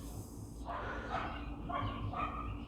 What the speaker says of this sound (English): They have two very fluffy white dogs that have like a yap bark to them.